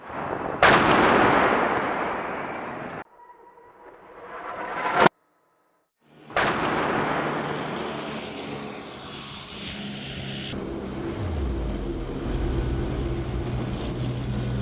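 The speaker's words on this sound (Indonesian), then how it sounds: "Tank ini mampu menembakkan peluru standar, peluru peledak tinggi, dan peluru hulu ledak anti-tank khusus yang bahkan dapat menembus armor paling tebal." An M1 Abrams tank cannon fires shells: a few loud, sharp booming blasts break out, each followed by a heavy rolling rumble and lingering low roar, with no voices.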